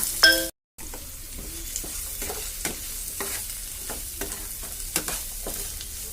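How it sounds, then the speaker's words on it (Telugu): Chopped onions and green chillies frying in a pan with curry leaves, a close, steady sizzle broken by repeated spatula scrapes and taps, with a brief sharp clatter and a short dropout near the start. "పచ్చిమిర్చి చిన్నగా కట్ చేసిన ఆనియన్ వేసుకుని గోధుమ బాగా ఫ్రై చేసుకోవాలి"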